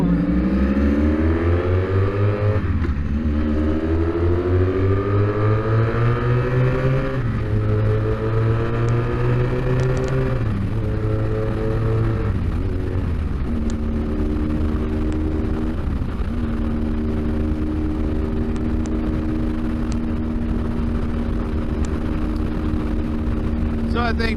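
A motorcycle engine revs and pulls away, its tone climbing through several gear shifts before settling into a steady drone; loud, close and continuous.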